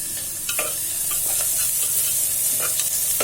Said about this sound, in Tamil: நல்லா வதக்கணும் இப்போ நம்ம தக்காளி